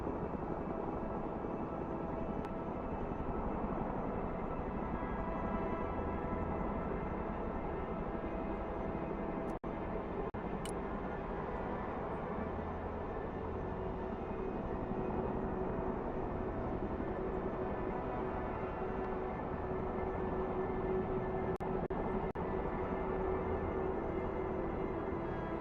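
Chinook transport helicopter in the Broken Arrow game, a steady droning rotor and engine hum with a faint whine, holding at an even level throughout with no voices.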